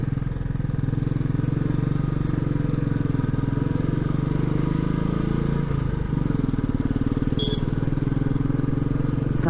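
Motorcycle ridden up Nandi Hills near Bengaluru: a steady engine drone with constant wind rush runs throughout, heard close from the rider's position, with a brief dip in the engine note midway.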